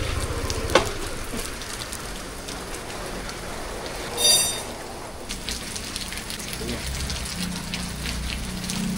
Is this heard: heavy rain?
yes